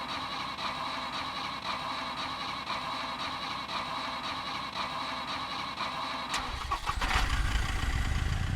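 Vehicle engine cranking and catching in the survival game Scum, after a steady hum of ambient background; the engine fires with a short burst and then settles into a low, steady running rumble.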